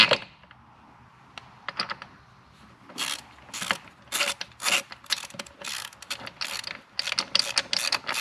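Ratchet wrench tightening the primary chain adjuster on a Harley-Davidson motorcycle, close clicking bursts that start sparse and grow into rapid, irregular runs of ratcheting clicks.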